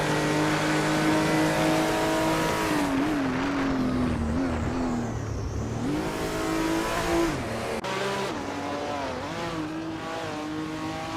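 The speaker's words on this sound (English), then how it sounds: "The Group 4 cars are quite diverse, with some classic muscle and sports cars leading." Group 4 race cars, classic muscle and sports cars, at the Red Bull Ring in a racing video game, engines revving hard and shifting pitch through corners, loud and continuous with brief tire squeal.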